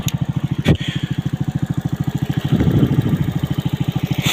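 A Verkhovyna moped with an Alpha 72 engine idles on a cold winter day, its single cylinder putting out a steady close, rapid chugging pulse that swells briefly partway through, with no talk.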